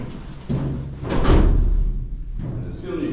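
An old green door of an 800-year-old medieval lighthouse in Wexford opens with a loud thud and a rumbling scrape, followed by a softer creak, with people talking nearby.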